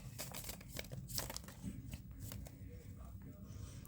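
Tarot cards being shuffled by hand, a quiet run of soft riffling and papery flicks close by, with faint background noise and no clear talk.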